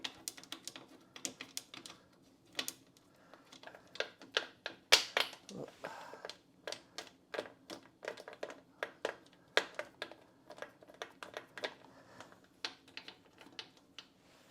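The lid of a pressure canner is locked down with a quick, irregular run of small clicks and taps as its fasteners are tightened on opposite sides, close but soft, with faint background hum.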